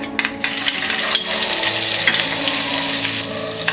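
Ginger hits hot oil while mango rice is cooked, giving a bright, continuous sizzle with crackling pops and a few light metallic clinks.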